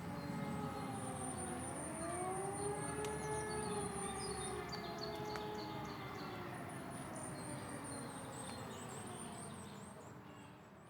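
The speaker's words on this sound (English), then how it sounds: "The car horns, the occasional stray voice, the passing airplanes, and the sirens down below." Wailing sirens rise and fall at a distance in the streets below Caracas, Venezuela, over a dense hum of city traffic, with a faint high whine above, fading slightly toward the end.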